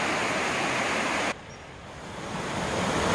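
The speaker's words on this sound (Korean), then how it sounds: "여전히 아름답게 흐르고 있는 번천계곡은" A mountain stream in Beoncheon valley on the southeast side of Jirisan, Sancheong, South Gyeongsang, rushes over rocks in a dense, continuous wash of water noise that briefly dips before swelling again, with no voices.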